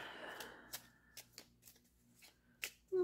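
Short, soft riffles of cards being shuffled repeat at a steady pace, quiet and close.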